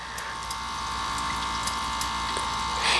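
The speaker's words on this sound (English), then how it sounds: "So right now solid, it is suctioning the water." A Keurig K-Mini single-serve coffee maker draws water with a steady, soft pumping hum and faint trickling, continuous and close, without any talk.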